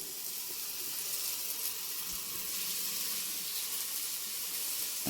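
Steady, bright sizzling of brinjal slices frying on a hot griddle, close by and continuous, with no voices.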